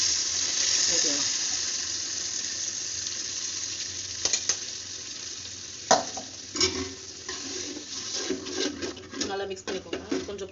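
Brinjal gravy with strained tamarind water is stirred in a pan, a low simmering hiss giving way to scraping spoon strokes and splashy stirring knocks toward the end, close by, with no talking.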